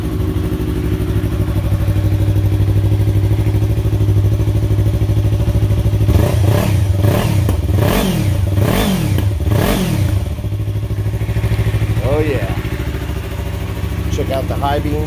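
A 2015 Yamaha R3 motorcycle with an Akrapovic exhaust idles loudly up close, then revs in a rapid series of five or six sharp throttle blips before settling back to idle, followed by a few faint later blips.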